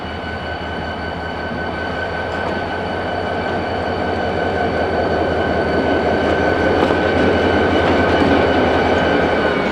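CSX freight job Y125 airing up a long train of outbound cars in Peiguss Yard, a steady loud rumble with a high sustained hiss of air and faint clanks that swell slightly over time.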